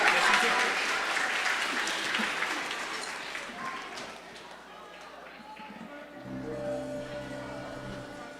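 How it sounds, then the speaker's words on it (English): Audience applause at a school assembly for the school jazz band, a dense broadband patter that is loud at first, thins out over several seconds, then gives way to a voice speaking. "Let's give our jazz band a big round of applause."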